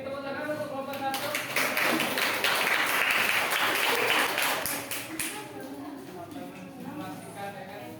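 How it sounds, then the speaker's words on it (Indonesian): A group claps for several seconds after a group presentation in a university teaching session, building to a dense burst then tapering off, with voices chattering around it. "tepuk tangan untuk kelompok 1"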